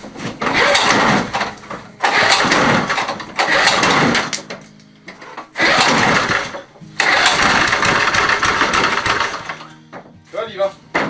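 A Wolf QP Eurotondor mower engine, an old wreck being restored, cranks and catches in repeated loud bursts of several seconds each, broken by short pauses, with talk heard over it.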